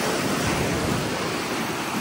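Ocean waves and incoming tide wash ashore at Jones Beach on Long Island, a steady soft surf hiss with some wind buffeting against the microphone.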